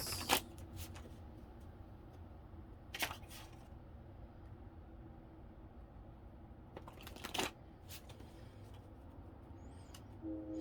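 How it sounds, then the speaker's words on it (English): Quiet riffling of cards, with a few sharp bursts of shuffling spaced several seconds apart over low background rustle. "they said do a couple big shuffles."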